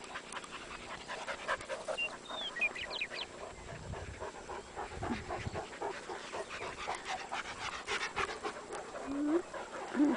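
Dogs on a walk at a prairie dog town pant quickly and rhythmically close by. A few faint bird chirps sound in the background.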